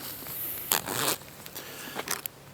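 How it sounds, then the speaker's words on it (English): A zipper on a waxed canvas bag, freshly treated with a wax conditioner, is pulled open or shut in a few quick raspy strokes, close and fairly quiet, with a short pause between pulls. "It just makes your zippers work so much better."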